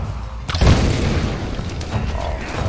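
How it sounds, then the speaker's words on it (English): Bomb blast in the video game Tomb Raider, a single deep boom that hits sharply after a short quiet lead-in and rumbles on with debris-like crackle for the rest of the moment. "Let's use this fucking bomb."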